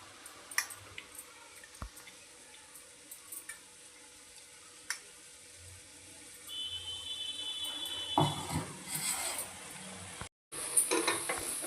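Ground coconut and sesame spice paste for a stuffed brinjal curry frying in hot oil, a soft sizzle with occasional stirring and scraping, growing louder partway through, close by, with no talking.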